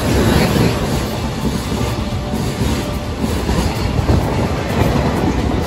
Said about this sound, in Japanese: EH500 型が牽引します